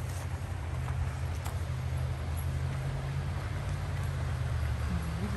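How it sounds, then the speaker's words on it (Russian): A turbulent river rushing over rapids gives a steady, unbroken broadband roar with a low rumbling undertone, constant in level throughout and with no voices. "Вот и река бурная с порогами, которая там так шумит."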